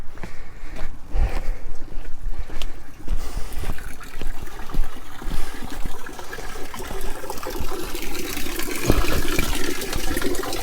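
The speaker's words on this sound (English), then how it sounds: "when I stop filling the tank, the water will be shooting out again" Water rushes and trickles steadily into a storage tank after passing through a sediment filter and a charcoal filter in an off-grid tiny house, a loud continuous gushing that swells slightly near the end.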